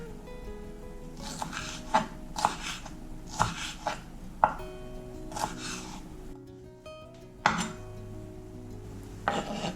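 A knife dices a tomato on a cutting board in a series of sharp, evenly spaced taps, close and clear over a quiet background.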